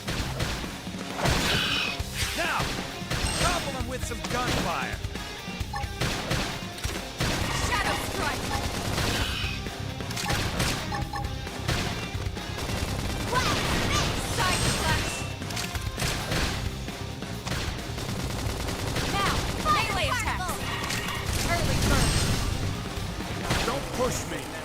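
Gunfire in the action game Xenoblade Chronicles X, dense bursts of shots and impacts throughout a busy battle, mixed with game music and character voices speaking.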